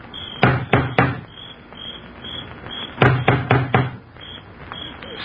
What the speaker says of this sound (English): then lifts the huge knocker on the door.